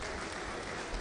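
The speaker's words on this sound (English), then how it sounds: "A round of applause for Mrs. Olukoya, please." Brief burst of crowd applause at a Nigerian poultry show session, dense and even, with no voices over it.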